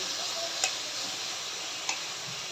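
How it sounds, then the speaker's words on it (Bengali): Marinated chicken frying in hot mustard oil makes a soft, even sizzle with a few faint clicks of stirring, fairly quiet and heard alone. "এখন মাখানো মুরগিগুলো দিয়ে দিব। এগুলো এখন আমি ভেজে নেব।"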